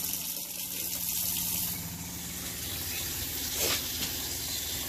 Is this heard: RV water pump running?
yes